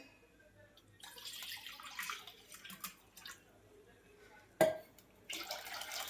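Water poured into a cooking pot of rice, a faint splashing pour in short bursts that stops briefly partway through and then resumes, with no talking.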